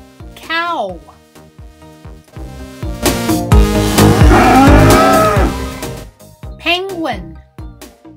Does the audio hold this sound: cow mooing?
yes